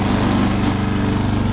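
A ride-on lawn mower built like a quad bike runs with a steady, close, loud putter and an even pulsing rhythm, and no voices are heard.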